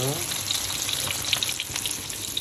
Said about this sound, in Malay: ikan goreng sampai garing kalau boleh okay